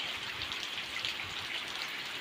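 Steady rain falling on a village, a dense continuous hiss of drops pattering on surfaces, close and even throughout with no voices.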